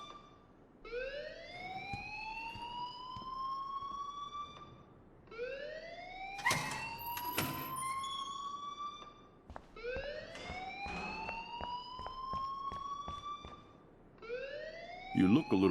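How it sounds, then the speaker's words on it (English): Rising, wailing electronic alarm in a video game, sweeping upward in repeated cycles of about four seconds each, loud and tonal, with sharp clicks and a brief burst of other sounds between cycles. "please turn off that alarm since that's your job."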